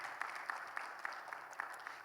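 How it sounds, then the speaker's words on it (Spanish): A church congregation applauding during a Bible seminar, with a brisk, fairly even run of claps that carries on without pause. "Dáselo fuertes aplausos"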